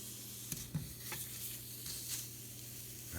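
Pho aromatics charring over an open stovetop flame, giving a soft, steady sizzle and crackle with a couple of brief knocks early on, quiet and close.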